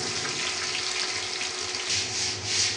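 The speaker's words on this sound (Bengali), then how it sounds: "এখানে আমি পেঁয়াজ আর রসুন কেটে নিয়েছি। এটা আমি এখন তেলের মধ্যে দিয়ে দেবো।" Chopped onion and garlic fry in hot oil as a steady, close hiss and sizzle that swells a little toward the end, with no talk.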